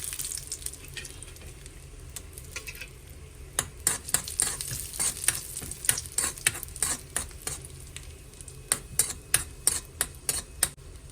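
Cashew nuts frying in a pan while being stirred, with a steady background sizzle and frequent sharp clicks of a spoon against the pan throughout.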